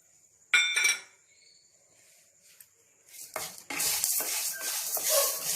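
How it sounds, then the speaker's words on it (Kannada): Chana dal and urad dal frying in oil start near silence, then a sharp clink and a few scrapes before a dense, close sizzle builds up and continues steadily to the end. "ಚೆನ್ನಾಗಿ ಫ್ರೈ ಮಾಡೋಣ"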